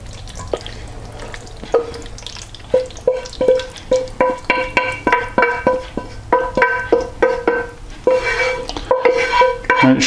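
Cheese sauce and cooked macaroni being stirred in a pan, a spoon scraping and slapping through the thick mixture in a steady, rhythmic run of wet squelches and metallic clinks, close and loud.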